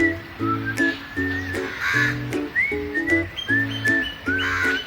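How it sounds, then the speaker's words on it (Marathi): Birds calling outdoors at Cola Beach, South Goa: crows cawing in repeated harsh bursts, with sparrow-like chirps and whistled notes layered over them. "कावळ्यांचा आवाज आहे, चिमण्यांचा आवाज आहे"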